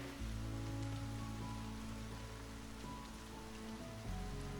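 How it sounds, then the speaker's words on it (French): Light rain falls steadily under a grey sky, a soft continuous patter on surfaces with a low background rumble, no voices. "Le ciel est gris et il pleut un peu."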